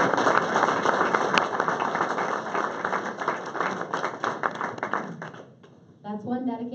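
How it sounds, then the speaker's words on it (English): At a community meeting with the sheriff, a room of people breaks into steady applause that fades away, and a voice speaks over the last moments. "Let's give a round of applause."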